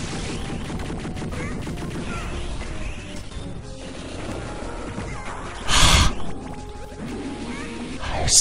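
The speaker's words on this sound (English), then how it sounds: "All right, avoid the missiles." Hyper cannon blasts and missile fire in the Astro Boy: Omega Factor video game, a run of crashing impacts and bursts with one loud explosive hit in the middle, game effects alone without talk.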